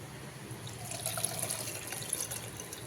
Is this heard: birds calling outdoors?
no